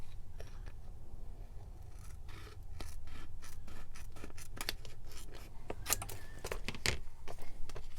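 Scissors cutting sticker paper for a collage page, heard as a close series of crisp snipping and rasping cuts, irregular at first and then faster toward the end, with no talking.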